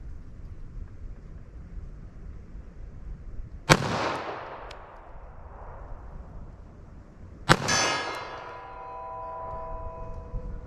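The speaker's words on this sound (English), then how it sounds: "So I'll aim for the same area and make a headshot with this 45 here." Two sharp .45 ACP pistol shots, fired with Federal old-school ammunition at a target, crack several seconds apart. Each is loud and followed by a long echoing decay outdoors.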